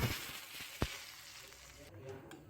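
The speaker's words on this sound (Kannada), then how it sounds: "ಇವಾಗ ಒಗ್ಗರಣೆ ಹಾಕ್ತಾ ಇದ್ದೀನಿ" Hot ghee hisses and sizzles steadily as spices are tempered for tili saaru, with a single sharp pop partway through.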